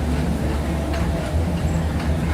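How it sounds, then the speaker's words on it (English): Epcot monorail passing at Walt Disney World in the evening, a continuous loud rumble and low hum of the train going by, with no gaps over the short stretch. "There's the other monorail."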